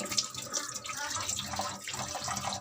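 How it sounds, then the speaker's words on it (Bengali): Tap water runs steadily into a kitchen sink while fish are rinsed, a continuous close splashing and gurgling with small drips and sloshes throughout. "তো মাছগুলো ধুয়ে নিই"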